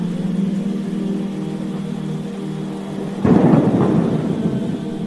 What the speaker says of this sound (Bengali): ঝড় তুলবেন পৃথিবী জুড়ে বয়ে যাবে মৃদু বৃষ্টির অমীয় ধারা